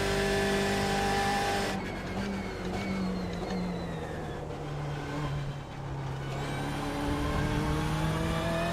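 A damaged NASCAR race car engine in the iRacing sim whines steadily at high revs, dipping and climbing as the car shifts and accelerates, loud and continuous with no talk.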